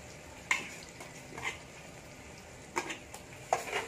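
Spice paste frying with softened chopped tomato in a pan, a soft sizzle punctuated by a few brief scraping stirs at irregular intervals.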